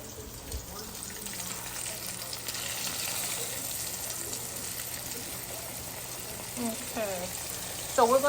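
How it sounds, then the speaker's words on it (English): Floured steak frying in a pan gives a steady, moderate sizzle and crackle throughout, with a few brief clinks and scrapes near the end. "Nice little sizzle going."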